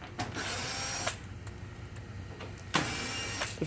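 A power screwdriver backs out the screws holding the back cover of a Toshiba fax machine, with two short bursts of whirring separated by a steady mechanical drone, heard close and fairly quiet.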